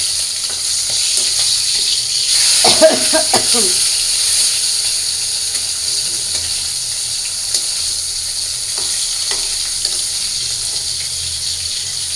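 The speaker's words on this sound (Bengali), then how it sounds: "মাছগুলো আমি ভাজতে থাকি" Fish frying in hot oil, a steady bright sizzle and hiss close up, with a short burst of spattering early on and a voice talking briefly over it.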